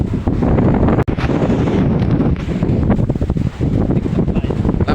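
Strong wind roars against the microphone at sea, with rough waves washing beneath the gusts. It is loud and continuous, with one sharp bump near the start and no speech.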